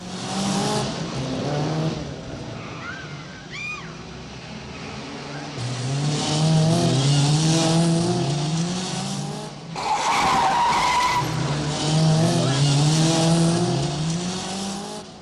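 Cars in a film car chase skidding with long wailing tire squeals and revving engines, two loud sustained bursts close by, with no talk over them.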